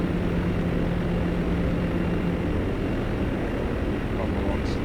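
German bomber aircraft engines drone steadily in flight in a video game, a loud continuous propeller roar with no break.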